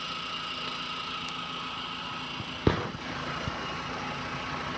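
The air conditioner runs inside a 2007 Zorpio injector-model car, a steady broadband hum and whir with the idling engine beneath, broken by one brief knock midway.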